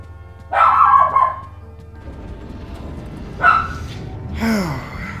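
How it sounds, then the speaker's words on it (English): Several house dogs barking indoors during a gaming session: a loud burst of barks, a pause, then more sharp barks and a short whine, fairly close and with no talk. "So all they do is bark."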